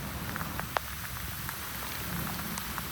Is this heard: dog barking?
no